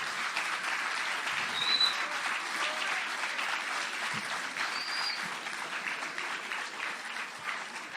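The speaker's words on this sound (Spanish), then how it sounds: "un aplauso porque es un lujo haber escuchado a Patricio" An audience of school groups applauds an author at the National Library in Buenos Aires, steady and even clapping from a crowd that holds at moderate volume for about eight seconds.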